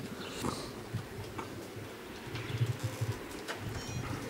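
Soft cooing and light fluttering of racing pigeons arriving at their loft in a busy outdoor setting, with scattered knocks and a steady background hum.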